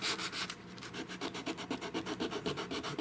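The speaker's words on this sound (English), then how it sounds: "I'm just going to sand this one to show you the difference in the sharp edges" Sandpaper rubs the sharp edges of wood on an antique mantel reproduction in quick, steady back-and-forth strokes, close and clear with a regular scratchy rhythm.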